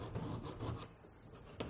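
Archival paper enclosure being folded and creased with firm pressure, giving soft rubbing and scraping strokes in a few bursts with a brief sharp crinkle near the end, close up and quiet, with no talking.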